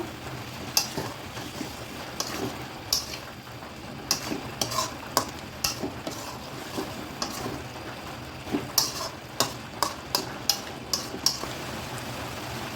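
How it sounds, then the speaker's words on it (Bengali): Fish heads sizzle in hot oil with green chilies as a spatula stirs them, a steady frying hiss broken by frequent sharp scraping clinks against the pan, no one talking. "কাঁচামরিচ মাছের মাথাগুলি দিয়ে নেব দিয়ে একটু কষিয়ে নেব"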